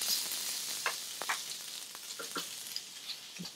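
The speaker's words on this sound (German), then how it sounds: "Jetzt drehen wir den Lachs hier auf jeden Fall um, auf die Oberseite. Und braten den nochmal" Salmon fillet sizzles steadily in a frying pan after being turned over, a close, even hiss broken by a few soft spatter pops, with no voices.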